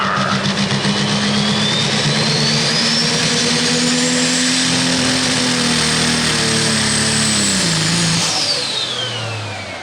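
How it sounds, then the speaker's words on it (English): Loud roaring diesel engine of a 10,000 lb pulling tractor under heavy load at a tractor pull, with rising whining turbo tones and shifting pitch, fading slightly at the end. "This is the old meltdown tractor of the Schnitkers, if I'm correct"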